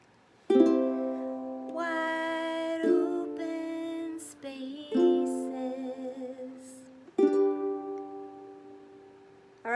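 Strummed ukulele chords, C then G, ring out one after another, each held for a moment before changing, played alone at a relaxed pace.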